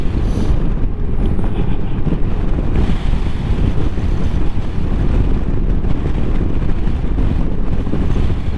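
Blustery wind buffeting a microphone outdoors beside a Honda Gold Wing GL1800 motorcycle, a loud, constant low rumbling roar with gusty swells, no talking.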